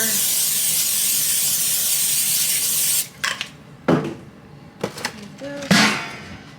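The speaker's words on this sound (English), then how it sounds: "I'll just do some spray butter." A steady hiss of butter cooking spray into a pan for a few seconds, followed by scattered clatters and knocks of the pan and utensils.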